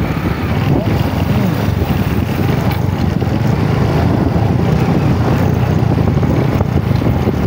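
A boat motor drones steadily and loudly throughout, with rushing wind and water noise blending into the constant engine roar.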